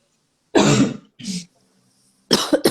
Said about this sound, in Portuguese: me deu um ataque de tosse aqui